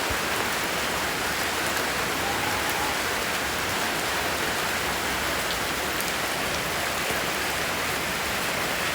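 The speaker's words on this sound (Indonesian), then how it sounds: "Walau hujan sekali." Heavy rain pours down steadily, a dense, loud, unbroken hiss of drops on surfaces lasting throughout with no voices.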